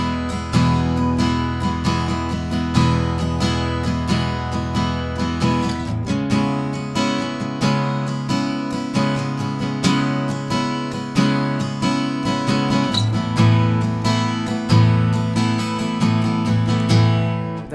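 Acoustic guitar strummed in a steady, fairly quick pattern for the worship song I Speak Jesus, with several clear chord changes along the way. The playing is close and continuous, with no voice over it.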